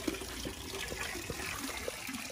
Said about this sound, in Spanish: Yo pago agua, por eso le enjuago yo.